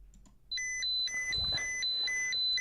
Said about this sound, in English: And it's Geiger counter.